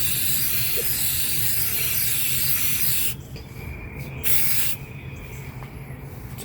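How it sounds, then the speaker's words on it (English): Clear coat sprays from an aerosol can in two loud, continuous hissing bursts, the first about three seconds long and the second shorter, separated by a brief pause, with rustling underneath. "So this is the can of the clear coat that I'm going to use,"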